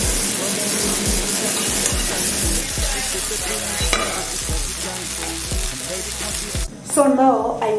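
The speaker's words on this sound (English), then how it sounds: "So now I want to cook the meat." Marinated meat sizzles and fries steadily in a pan with repeated low stirring scrapes throughout, then a brief burst of running tap water near the end; no talk.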